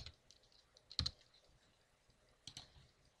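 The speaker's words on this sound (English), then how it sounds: "we'll type these credentials in" Keys on a computer keyboard are tapped to enter credentials, soft scattered clicks in a couple of short bursts separated by quiet, close and faint.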